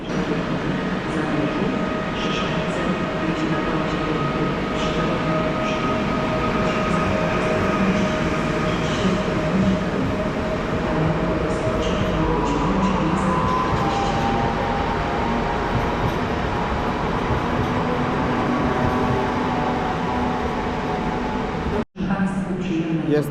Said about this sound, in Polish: Przed nami elf kolei śląskich z Katowic do Krakowa Płaszowa.